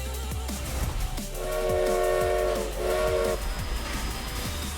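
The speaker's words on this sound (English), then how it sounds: "The train on the side, because we certainly don't want to imply that the player character is gonna get run over by the train." A passing train in the Forza Horizon 4 racing game sounds a sustained two-part whistle or horn over rumbling, clattering wheels, fairly loud and near, with no talk.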